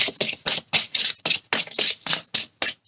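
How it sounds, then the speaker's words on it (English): Tarot cards shuffled in quick, crisp bursts, about a dozen riffling strokes in an even rhythm, close and clear with no talking. "Last shuffle."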